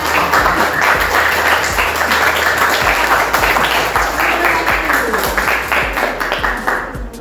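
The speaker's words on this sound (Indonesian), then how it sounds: "Oke, tepuk tangan." A school class claps together in a classroom, dense steady hand clapping from many students filling several seconds at close range before easing off at the end.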